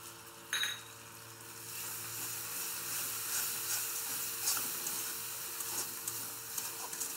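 Spices frying with chili powder in a pan make a steady, close sizzling hiss throughout, with a brief clatter of stirring near the start and occasional soft scrapes.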